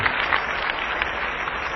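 A church congregation applauds, giving a dense, steady wash of clapping from many hands that carries at moderate volume through the whole short stretch.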